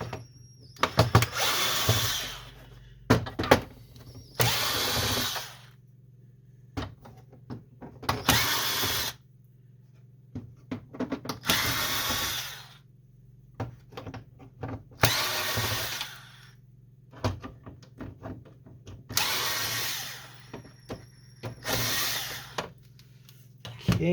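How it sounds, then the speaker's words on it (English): A power screwdriver backs screws out of an HP ENVY 4500 printer during disassembly, in repeated short whirring bursts of a few seconds each, separated by quiet pauses with small clicks and handling noises. "we're just going to continue with removing the rest of the screws all around"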